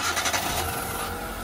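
A 2004 Hyundai Atoz GLS with manual transmission cranks and starts, a brief rasping starter burst giving way to a steady mid-pitched engine rumble, recorded close up.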